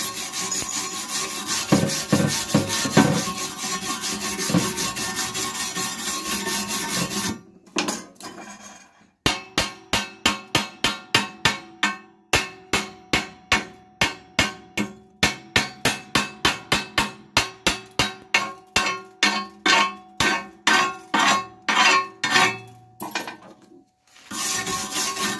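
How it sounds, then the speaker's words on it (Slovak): Hammer chipping slag off a fresh weld bead made with a Kowax GeniMig 220 welder: a burst of scraping and rubbing, then a long run of rapid metallic taps, close and loud. "Takže si oklepeme tieto strusky."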